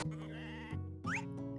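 Sheep bleat loudly and close by, several quavering calls in a row, with one sharp high cry near the end and no talk.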